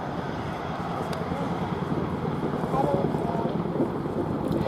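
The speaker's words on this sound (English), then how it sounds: "As the aircraft runs out left, he'll pitch up into a pedal turn." An RAF Chinook helicopter flies a pedal turn at the Duxford air festival, its steady rotor and engine roar heard from a distance, blended with wind noise and no talking.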